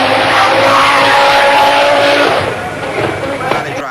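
The works Audi Quattro rally car with the new automatic gearbox, driven by Walter Röhrl, roars loud and close on a rally stage, its engine howling steadily before easing back slightly, with no talk.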